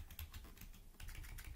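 Buttons clicking on a TI-Nspire CAS CX graphing calculator, a quick series of soft close-up plastic key presses in an uneven rhythm over a low background hum.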